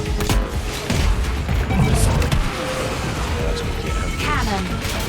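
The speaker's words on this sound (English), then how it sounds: "that dude just took me straight into that wall head on." A racing ship slams head-on into a wall in the WipEout futuristic racing game, a loud mix of crashing impacts and booms over the high-speed engine roar, with game effects throughout.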